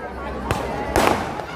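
Firecrackers bursting at a Dussehra celebration in Bhadrawati, two sharp cracks about half a second apart over a steady crowd murmur.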